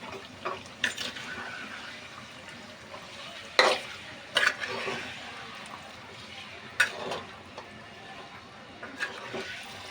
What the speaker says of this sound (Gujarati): તો એ ચિકનને આપણે અંદર એડ કરીશું. હવે આપણે એને હલાવીશું.